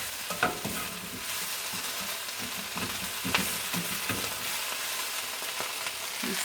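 Kale sautéing in olive oil in a pan, a steady close sizzle broken by scraping stirs and soft clinks of a utensil against the pan, with no talking.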